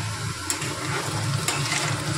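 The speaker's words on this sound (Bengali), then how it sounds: "এখানে বসিয়ে দিয়েছি আলু ভাজা" Potatoes fry in a pan on a home stove, giving a steady close sizzle with soft crackles and a couple of small pops. No one speaks.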